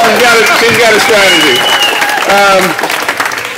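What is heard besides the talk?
applause at a political rally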